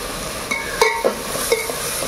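Ingredients for a biryani sauté in a pan, a steady close sizzle broken by several sharp clinks and scrapes of a utensil against the metal, with no voices.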